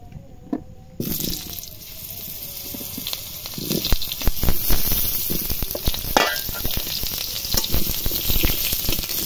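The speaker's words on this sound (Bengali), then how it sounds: "ওই কড়াইয়ে আলুগুলো ভেজে নেব।" Potatoes frying in a wok after meat has been fried in it. A brief quiet start gives way to a loud, crackling sizzle that keeps going, with stirring clatter and watery hiss throughout.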